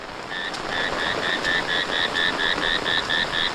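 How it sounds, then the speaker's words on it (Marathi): A frog croaks in the rain near village rice paddies, repeating a steady, rapid chain of short, regular calls over the constant hiss of rainfall. "बेडूक अजून ओरडतोय"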